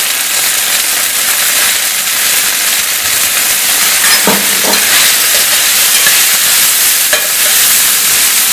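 Green peas and turmeric sizzle and hiss steadily in a hot pan for a masala dosa filling, with a few scraping stirs partway through; the frying noise stays loud and close throughout, with no talk.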